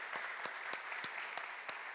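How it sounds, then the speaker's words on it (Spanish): Applause from the audience at a health congress after a personal testimony, a steady rustling wash of clapping with a few sharper, distinct claps standing out, heard fairly faintly. "Un aplauso para ella también por compartir con nosotros su testimonio."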